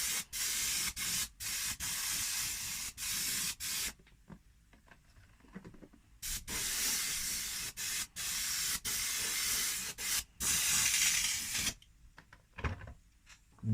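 An airbrush sprays silver paint onto an RC car body in repeated hissing bursts, close and steady, separated by short quiet pauses and brief clicks.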